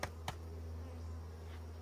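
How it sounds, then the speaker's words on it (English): A steady low buzz of honeybees shaken off a hive frame into a nucleus hive, with two brief sharp knocks at the start and the drone continuing evenly underneath. "So I'm shaking the bees off"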